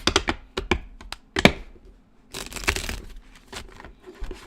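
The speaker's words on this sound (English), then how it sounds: "that was not a good shuffle" Tarot cards shuffled by hand in a quiet room, giving quick papery riffles and soft taps in short bursts, then a longer, denser flurry of shuffling near the end.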